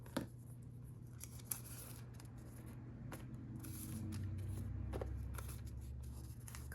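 Scissors trim paper for a kids' leopard pinata craft: faint, quiet snips and rustles spaced irregularly over low background hum, with a couple of sharper clicks near the start.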